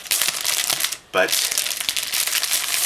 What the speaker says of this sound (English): I'll go ahead and unwrap them